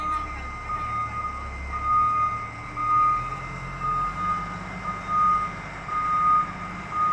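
Reversing beeps sound in a regular, evenly spaced pattern as trucks back up in line to unload at an all cargo freight station in Paharpur, over a rumbling engine idle and outdoor background noise.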